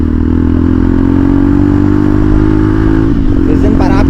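An Apache motorcycle engine runs loud and close with a steady, throaty drone, its pitch shifting near the end as the revs change, while a voice talks over it.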